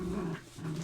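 A recorded sound effect of a dog growling, a low steady rumbling snarl that dips briefly in the middle, close and fairly loud with no talk over it.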